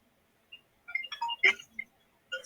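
A mobile phone rings in a courtroom, its electronic melody playing a short run of bright tones with quiet gaps between, close and moderately loud, with no talk over it.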